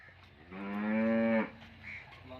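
A single loud moo from a Cholistani Friesian cross cow in Pakistan, drawn out for about a second close by, followed by quiet farmyard background.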